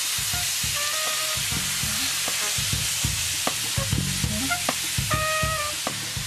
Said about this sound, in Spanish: cuando empieza a sudar la carne de este lado, es que lo vamos a dar vuelta para que vaya cocinando del otro